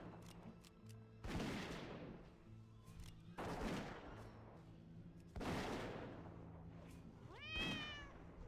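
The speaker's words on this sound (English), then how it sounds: "I need to disable the meowing" In a World of Warcraft Classic-style online game, a single drawn-out cat meow sounds near the end. Before it come three heavy, faint, booming impacts with fading tails. The whole clip is quiet, with no talking.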